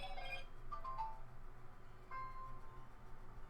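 A phone alert tone makes a few faint, short bright bing notes against a low steady background hum, with no talk.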